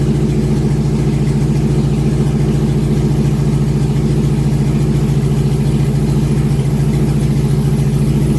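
A car engine idles steadily with a low, even rumble and no change in pitch, close by and with no voices throughout.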